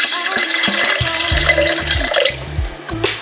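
Water runs and splashes into a container holding cut stems of store-bought herbs, with gurgling, dripping sounds and shifting tones as it fills, fairly close by.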